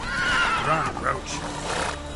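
Roach the horse in The Witcher, heard as a close whinny and snorting breath with faint hoofbeats beneath, brief and fairly loud.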